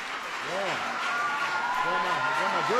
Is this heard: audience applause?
yes